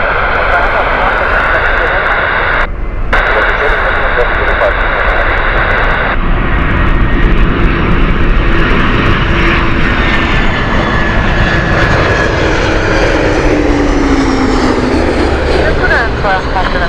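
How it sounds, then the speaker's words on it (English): An Air France Airbus A321-200 jet from Paris passes at Heathrow, its loud engine roar sustained for the whole stretch with a descending whine near the end, while someone talks over it. "Air France next, this is Paris flight Airbus A321"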